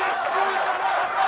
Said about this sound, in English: The crowd roaring him on.